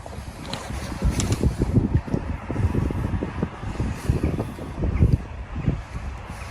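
Gusty wind buffeting a microphone on the bank of a tiny stream during coarse fishing, a steady low rumbling roar with stronger surges throughout, no talking.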